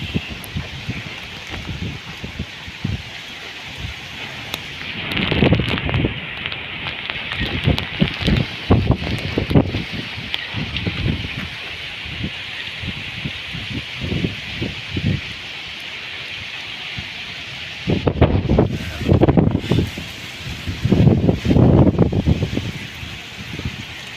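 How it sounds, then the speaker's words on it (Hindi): Heavy stormy rain with gusting wind in Chattroh, Dadyal, Azad Kashmir, a steady broad wash with stronger bursts rising and falling, close and continuous. "काफ़ी तेज़ और तूफ़ानी बारिश होनी भी जी छतरों इस टाइम।"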